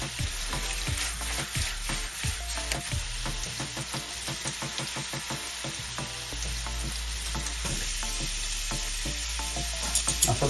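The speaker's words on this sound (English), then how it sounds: "Now that we've got the beef in there, searing a bit, I'm going to add some onions in there." Beef searing in a pan with onions and peppers added, a steady close sizzle and frying crackle with scattered clicks and stirring scrapes throughout, no voices.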